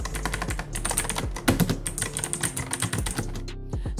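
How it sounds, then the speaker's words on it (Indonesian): Rapid, steady clicking keystrokes on an Armageddon MKA9C mechanical keyboard fitted with clicky blue switches, typed continuously and close to the mic with no talking. "switch yang dipakai modular mechanical blue switch yang feel, tactile feedback dan click soundsnya tuh mirip sama blue switch dari Cherry MX"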